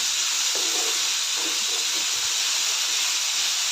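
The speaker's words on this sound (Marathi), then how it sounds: "आता आपण बटाटा घात घेतलेला आहे ते घालते सर्व मिक्स करून चांगलं परतून घेऊया" Potatoes being stir-fried with field beans (pavta) in a pan make a constant hissing, steamy sizzle close by, with a few soft stirring knocks near the start.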